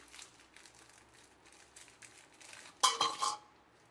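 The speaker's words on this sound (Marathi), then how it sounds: "अगोदर बिस्किट फोडून घेते मी." Oreo biscuits snapped apart by hand for a three-ingredient cake: faint crinkly handling early on, then one sharp, close crack with brief crumbly fragments near the end.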